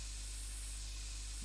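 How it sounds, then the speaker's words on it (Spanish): Mosquito repellent sprayed from an aerosol can in the game My Summer Car gives a steady, continuous hiss lasting the whole moment, close and unbroken. "Mosquito spray."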